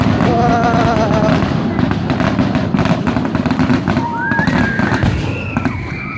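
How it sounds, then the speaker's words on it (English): Fireworks burst in a rapid string of booms and crackles at a nighttime display, loud and close, with a couple of whistling rockets rising near the end. "That was a lot of big booms,"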